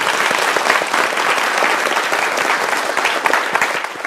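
A lecture audience applauds, a dense, steady patter of many clapping hands that holds for a few seconds before tapering slightly.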